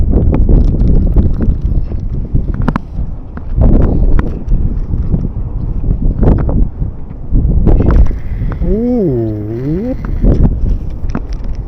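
Gusty wind blows across an abandoned fishing pond during an overnight fishing trip, buffeting the microphone in rough, uneven rumbling bursts. A brief wavering whistle-like tone rises near the end.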